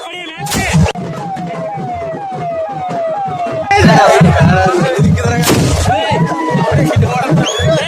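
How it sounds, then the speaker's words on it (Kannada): Homemade country guns fire in celebration at a crowded welcome event for Union Minister Bhagwanth Khuba in Yadgir, with a few sharp loud bangs standing out amid continuous chirping, whooping sirens and crowd din. "ಢಮ್ ಢಮ್ ಅಂತ ನಾಡ ಬಂದೂಕು ಸಿಡಿಸಿದ್ದನ್ನ ತೋರಿಸ್ತಾ ಇದ್ದೀವಿ"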